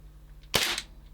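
A single sharp shot from an EMG Staccato gas blowback airsoft pistol firing 0.2 g bio BBs, a crisp snap with a brief hiss-like tail, heard alone against quiet room noise.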